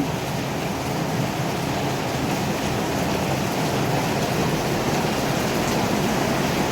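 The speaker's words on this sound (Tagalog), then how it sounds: "lalong lumalakas yung ulan." Heavy rain during Typhoon Kristine in the Philippines, a constant dense roar of downpour with no letup, loud and enveloping, with no voices heard.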